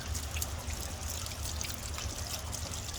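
Water flushes out of an Atwood RV water heater tank in a steady pouring, trickling stream, fairly quiet and continuous with no voices over it.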